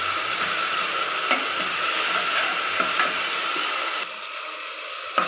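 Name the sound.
frying ginger garlic paste for mutton masala curry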